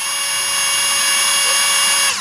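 Close, loud power drill boring a starter hole through metal siding on the side of a house, a steady high whining drone lasting about two seconds before it cuts off abruptly.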